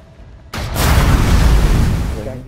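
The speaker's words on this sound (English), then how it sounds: "I'm gonna blow people up with my grenade launcher!" A grenade launcher explosion in the video game Warzone 2 erupts suddenly as a loud, booming blast and rolls on as a dense, sustained rumble for about two seconds before easing off.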